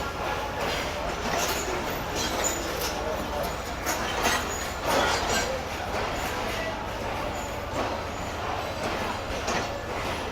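The Khyber Mail passenger train running with short coaches, a steady rumbling roll of wheels on track heard from on board, with faint rhythmic clatter and a voice talking over it.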